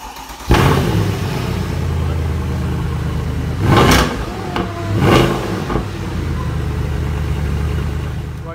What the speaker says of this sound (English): I started the car up. It sounded amazing, insane.